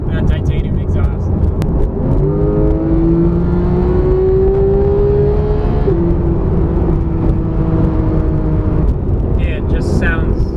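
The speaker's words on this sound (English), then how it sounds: "Stock exhaust. Yeah, still sounds pretty good." A Porsche GT3 on its stock exhaust, the engine droning loud and close with rising revs that hold, dip and climb again as it accelerates, while speech runs over the top.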